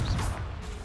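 A Confringo explosive spell goes off in Hogwarts Legacy, a short loud crash with a swooshing burst that fades quickly, alone.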